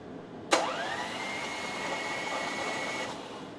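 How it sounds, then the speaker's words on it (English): An engine is cranked over by its starter during a spark check in a garage. A sudden whirring whine starts abruptly, holds steady for about two and a half seconds, then cuts off. "I'm gonna crank it."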